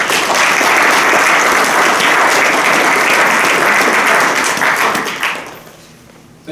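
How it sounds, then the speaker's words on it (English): An audience at an honor society induction ceremony applauds loudly and steadily for about five seconds, a dense wash of many hands clapping, before quickly dying away into near silence. "Please join me in thanking them with a round of applause."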